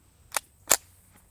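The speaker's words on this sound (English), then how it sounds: "I will shoot the first 3 rounds semi-automatic style" Two quiet, sharp subsonic pistol shots about a third of a second apart, muffled and dry through a suppressor, fired semi-automatic, followed by a faint click.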